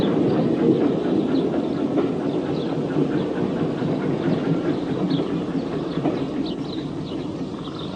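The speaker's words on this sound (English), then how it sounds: "And here's the train having returned." Train with ancient four- and six-wheel carriages at Bodiam Station on the Rother Valley Railway, near an ungated level crossing, rumbling steadily with faint rhythmic clicking of wheels on rail joints throughout.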